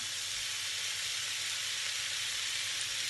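Mushrooms hit a pan of cooking omelette and fry with a steady, bright sizzling hiss. The sizzle holds even and fairly loud for about three seconds, with no one talking.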